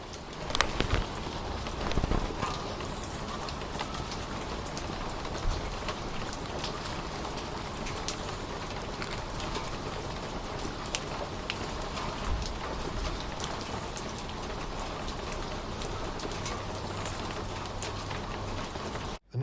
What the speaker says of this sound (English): it was a good opportunity to make some more field recording of the beautiful sound of the rain